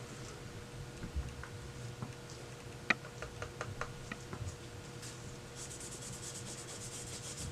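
A little lubricant is rubbed by hand onto an AR-15 bolt carrier, making faint soft rubbing with scattered small metallic ticks in a quiet room.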